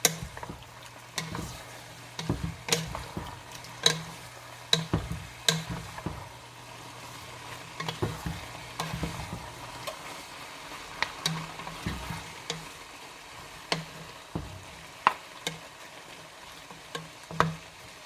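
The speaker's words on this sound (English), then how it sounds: "And we'll mix it all. Incorporate our noodles." Stir-fried noodles and vegetable mix are tossed in a hot pan, with steady sizzling frying and repeated sharp scrapes and taps of a utensil against the pan, close and continuous, no talking.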